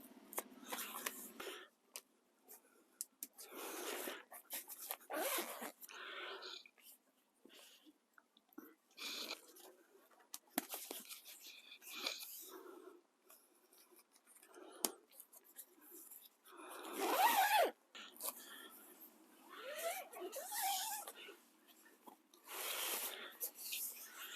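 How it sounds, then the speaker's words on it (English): A zipper is drawn open across the top of a rain-soaked Half Dome tent vestibule during a wet-weather backpacking setup. It comes as a run of quick, scratchy rasping bursts, close by, with rustling fabric and some breathing between pulls. "if I zip the top of the vestibule open, I can reach inside and do clips from here"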